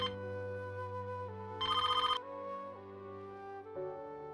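A telephone rings in a domestic drama scene, a short loud electronic ring burst standing out over steady background music, with no talking.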